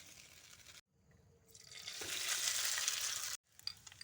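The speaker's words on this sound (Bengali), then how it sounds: "এবারে পরেরটা ভাজবো" Ingredients for a Maggi noodle dish frying in a pan: a soft sizzle that breaks off twice, then swells into a louder, steady hiss before cutting out abruptly, with no voices.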